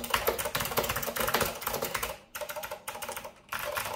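Typing on a Leading Edge DC 2214 keyboard with Alps SKCM Blue switches: steady, close, crisp clicky keystrokes in quick runs, broken by two short pauses.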